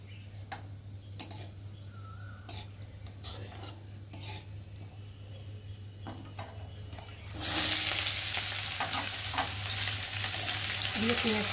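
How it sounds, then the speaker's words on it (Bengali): Chopped onions and green chillies dropped into hot oil with cumin seeds in a pan, starting with quiet ticking and stirring before a sudden loud, steady sizzle bursts out and carries on close by. "আর এখন দিয়ে দেবো কেটে রাখা পেঁয়াজ আর লঙ্কা"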